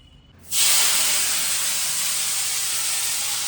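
Potato and cauliflower pieces frying in hot oil, a loud steady hiss that bursts in abruptly and holds evenly, close up and heard alone.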